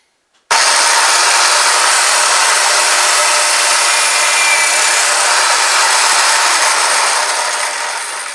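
Power drill with a bit boring a hole in wood, starting abruptly and running as a steady, loud, continuous whir for several seconds with no pauses.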